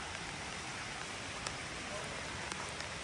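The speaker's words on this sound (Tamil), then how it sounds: "ஹெவி மழை வெளியில்." Heavy rain falls outside at a gated villa community near tennis courts, a dense steady hiss with scattered drop taps, continuous and fairly loud, with a voice faintly beneath.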